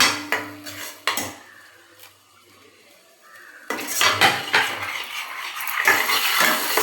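Masala with large green chillies being stirred in a pan, clanking metal spoon-on-pan strokes at the start, a quiet gap, then a dense, loud burst of scraping and sizzling close up.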